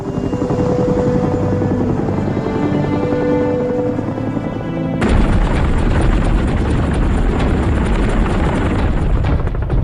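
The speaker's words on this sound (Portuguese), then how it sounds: "a decolagem de 120 helicópteros americanos para transportar mais 800 tropas terrestres" Military helicopters take off to carry troops, a heavy rotor roar with rhythmic chopping; midway the sound cuts to a louder, denser roar of rotors and engines, with no talk.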